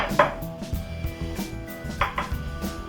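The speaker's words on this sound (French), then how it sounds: "On a des noisettes qu'on va concasser au mortier" Hazelnuts crushed in a mortar with a pestle: a series of sharp knocks and cracking crunches at an uneven pace, close and clear with no talk.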